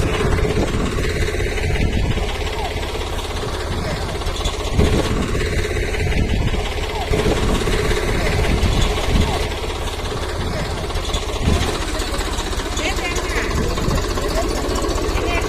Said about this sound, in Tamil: இந்த டிராக்டரில் தான் இப்போ ட்ராவல் பண்ண போகிறோம்